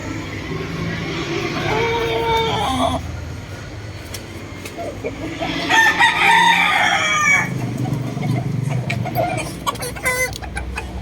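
Gold hennie rooster in a backyard crowing twice, a loud, close call rising over background noise, with someone speaking nearby.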